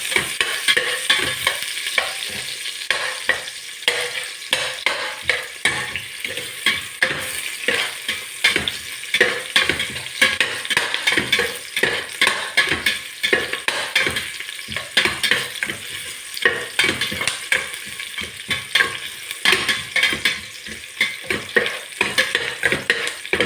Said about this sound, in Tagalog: Medyo haluin lang natin para maging golden brown.